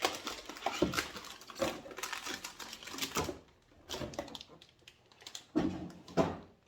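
A new PC motherboard is unboxed at close range: crinkling packaging, cardboard handling and plastic rustles come in irregular bursts, with short quiet gaps between.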